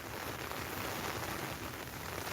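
Rain falls steadily on a garden during no-till potato planting, a dense, close, even patter of drops on an umbrella and the surrounding ground, with no voices.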